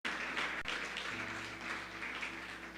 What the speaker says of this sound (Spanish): ¿Puedes dar un aplauso a Dios?